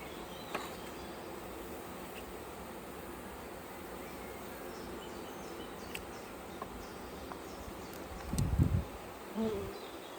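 A steady, dense buzz of honeybees inside a hive hums throughout, with a couple of brief louder bumps near the end.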